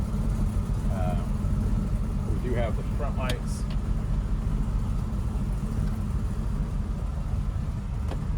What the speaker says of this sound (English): But just a good sound out of the V8.